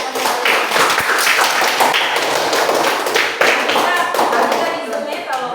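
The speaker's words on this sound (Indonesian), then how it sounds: "Kita berikan tepuk tangan kepada mereka." A classroom group claps for a presentation, a loud, dense, steady applause that fills the room for several seconds, with scattered voices mixed in.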